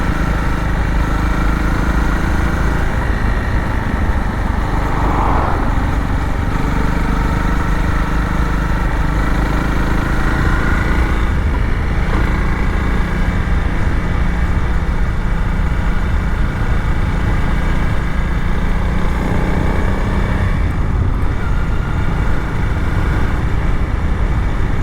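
A Honda CRF300L dual-sport motorcycle pulls in fifth gear on a road ride, its engine a loud, steady drone with wind rush that holds without a break from start to finish.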